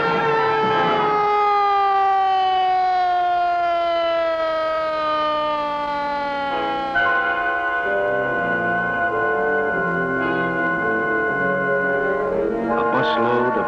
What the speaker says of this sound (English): The siren shrieks the word to every key person in the area.